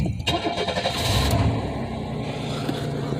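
A 1993 Chevy Lumina with an idling issue after sitting cranks briefly and catches, settling into a loud close running idle with a steady engine rumble.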